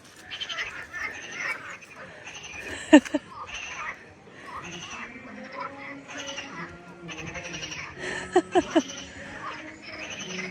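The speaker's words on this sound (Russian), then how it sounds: "Ой, лягушки орут-то. Это ж надо так. Вот звуки." Loud chorus of frogs croaking from water near a small footbridge in Abkhazia, with overlapping rhythmic calls. A voice speaks over the sound from time to time.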